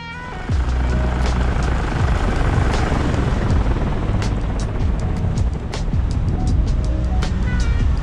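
A paramotor engine drones steadily overhead in flight near Hertford and Welwyn before landing, loud and continuous, with a propeller buzz that holds throughout.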